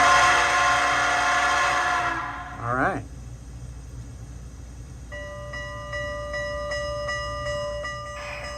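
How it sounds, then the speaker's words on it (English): An ESU DCC decoder in a model Southern Pacific cab forward steam locomotive sounds a loud chime whistle that cuts off with a falling tail, then after a pause a steady ringing bell begins, over background hiss, with a brief spoken word. "How about the whistle and the bell?"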